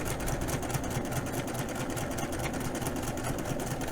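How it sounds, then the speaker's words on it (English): Sewing machine chain stitching quilt block pieces, a steady fast whirring run of stitches that continues without a break, fairly quiet and close, with no voices. "I'm going to go to the sewing machine and I'm just going to chain stitch all of these through"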